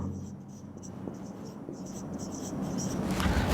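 Pen scratching on paper as the word between is written by hand, a close, faint, continuous scritching with small strokes, over a low background hum and faint speech.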